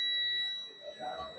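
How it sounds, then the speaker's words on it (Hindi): A multimeter set to continuity gives a steady electronic beep across a Honda Shine BS6 ECM wire. The tone holds without a break through the clip, with faint voices in the background. "बीप में आवाज आनी चाहिए, अगर ये आवाज आ रही तो वायर टूट के नहीं है।"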